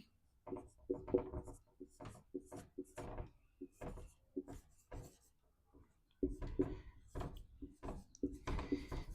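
Handwriting during an English grammar class, a question being written out in bursts of scratchy strokes with pauses between them, close and fairly quiet, with no talk.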